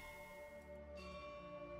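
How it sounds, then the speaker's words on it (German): Vesper Bell of Clarity toy bell in World of Warcraft, a small bell with a sustained clear ringing tone that decays softly, faint and alone. "Also man stellt eine Glocke auf, die macht dann so ein kleines Dingelgeräusch."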